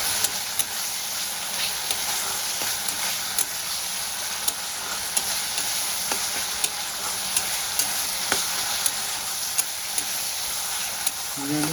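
Fried potatoes sauté with tomato and spice masala in a pan. A steady broadband sizzle runs throughout, with frequent light scrapes of a spatula stirring close by and no voices.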